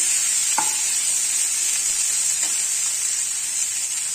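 Raw green banana pieces sauté in a pan with a steady, close frying sizzle throughout, broken by a couple of brief scraping stirs.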